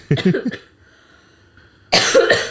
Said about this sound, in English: Actually, I have this very bad cough